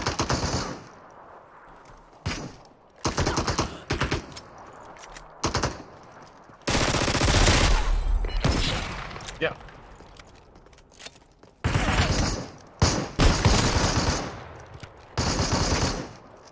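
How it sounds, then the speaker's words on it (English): Shotgun and other gunfire in the battle royale game Super People, loud cracking shots and short bursts separated by quieter gaps, with footstep-like scuffs in between. "Clutch Meister with a shotgun"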